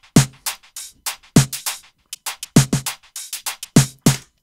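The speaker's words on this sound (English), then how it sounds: "The high-end drums sound like this." High-end drum part from a mix, with crisp broadband hits in a steady groove, sharp transients and bright tops, heard alone at close range.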